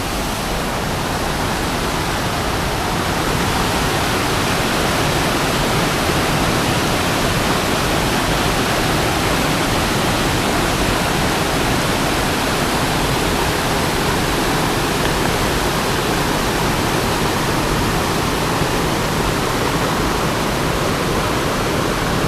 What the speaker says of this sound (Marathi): मित्रांनो पर्याला पूर आलेला आहे म्हणजे पाणी वाढलेलं आहे हे बघा